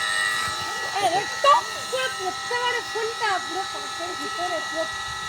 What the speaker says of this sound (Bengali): মেশিন বসিয়েছি মেশিন দিয়ে জল তোলা হচ্ছে দেখো